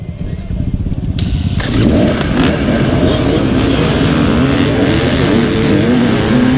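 Several 2018 KTM 300 enduro motorcycles rev together at the start of a hare scramble race, building from a steady idle into a loud, sustained roar of two-stroke engines accelerating away close by.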